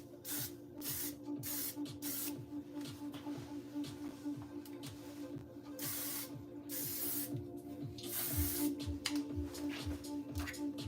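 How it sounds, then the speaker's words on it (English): Fine hairspray mist hisses from a can onto hair in a series of short repeated bursts, close and fairly soft, with no one talking over it. "I just added the hairspray to hold"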